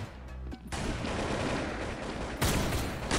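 Sustained rapid gunfire from a Truy Kich VN online shooter match with zombies, dense continuous bursts filling the clip and a louder volley near the end, with no talk.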